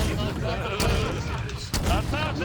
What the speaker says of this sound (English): all you hear gunfire and rockets